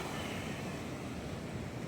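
Steady roar of rough sea waves mixed with strong gusting wind, a continuous broad wash of noise with no voices.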